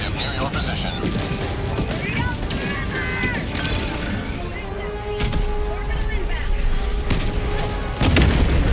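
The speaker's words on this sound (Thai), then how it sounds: "อุ้ยระเบิดอะไรอ่ะ" Explosions erupt amid constant gunfire and mechanical clatter in the Helldivers 2 battlefield, with heavy booms cutting through around the middle and end while players talk over the action.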